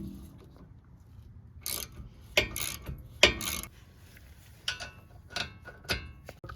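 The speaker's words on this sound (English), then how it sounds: "Gonna make it tight with the ratchet." A hand ratchet on the brake bracket bolts of a 2019 Ford Fusion Hybrid clicks in short, separate bursts of close, sharp ticks with pauses between strokes, alone in a quiet space.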